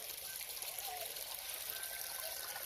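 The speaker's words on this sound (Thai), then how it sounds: "น้ำตรงนี้ไหลจากเขานะทุกคน" A mountain stream runs beside a vegetable garden of asparagus and salad greens, giving a steady, close rushing and trickling of water that fills the whole stretch without a break.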